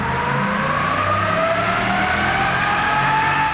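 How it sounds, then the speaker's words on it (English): A 2018 Ford F-250 pickup truck's engine revs steadily on an in-house dyno, a loud sustained drone whose pitch climbs gradually throughout, heard alone without talk. "we tested our 2018 F-250 behind me on our in-house dyno to see what we'd get"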